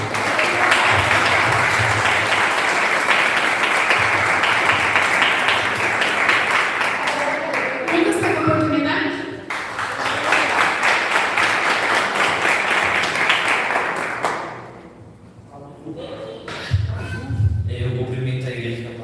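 A church congregation claps and applauds at a youth service, a sustained loud crowd of clapping hands with voices mixed in, dipping briefly twice before swelling again.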